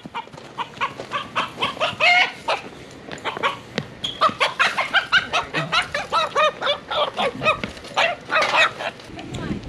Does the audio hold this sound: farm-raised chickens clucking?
yes